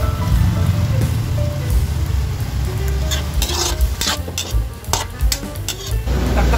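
Tomatoes and fish sauce frying with chicken in a pan, a steady loud sizzle with stirring scrapes and light clinks of utensil against the pan throughout.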